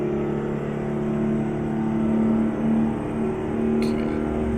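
A Screaming Jimmy truck engine in American Truck Simulator drones steadily with strong low harmonics, holding a near, even roar with slight swells, and a faint voice beneath it.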